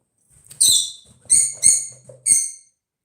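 A bird gives four sharp, shrill squawks close by, spaced unevenly with short pauses between them.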